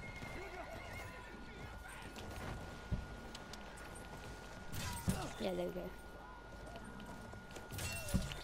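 Horse in a multiplayer shooter game whinnies and neighs over clip-clopping hooves, with a couple of louder neighs standing out amid background game noise while players chat briefly.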